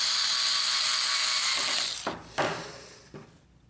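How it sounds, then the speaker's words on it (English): A power screwdriver whirs steadily while driving screws into the transfer belt unit of a Samsung CLP320/CLX3180 laser printer. It stops, and a few sharp clicks and plastic knocks follow as the tool settles. "Install the 3 screws."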